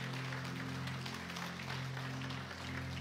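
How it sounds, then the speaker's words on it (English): A church congregation claps in praise at a Thanksgiving Sunday morning service, a steady wash of hand clapping under a sustained organ or keyboard chord, fairly quiet and continuous throughout. "Let's give the Lord a hand clap of praise this morning."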